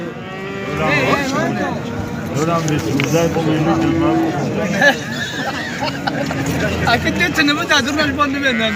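Cattle at a livestock market moo repeatedly and loudly over a steady crowd murmur, with people talking close by throughout.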